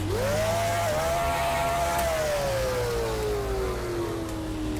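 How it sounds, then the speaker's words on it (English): Simulated car engine in the Roblox Taxi Boss game revs up quickly, holds a high whine, then slowly winds down in pitch, a steady synthetic drone throughout. "I'm gonna take this car, get inside, and I'm gonna hear the revs"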